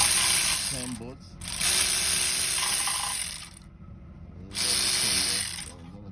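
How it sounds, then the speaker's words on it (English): A ratchet loosening the bolts on a cracked oil pan of a 2019 Hyundai Sonata 2.4L, heard as three sustained bursts of rapid clicking separated by short quiet gaps, close and fairly loud. "So we're going ahead to undo all this bolt now."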